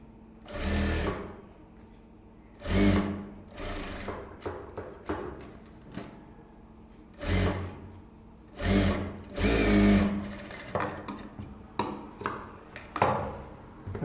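Sewing machine stitches a blouse front in short repeated bursts of rapid whirring, each a second or so long, separated by quiet pauses and small handling clicks.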